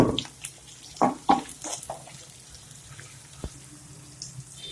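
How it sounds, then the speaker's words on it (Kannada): Tomatoes frying in a pan: scattered sharp pops and spattering crackles, with a few louder stirring knocks near the start, over a low steady background. "ಟೊಮೊಟೊ ಹಾಕಿ ಸ್ವಲ್ಪ ಫ್ರೈ ಮಾಡಬೇಕು"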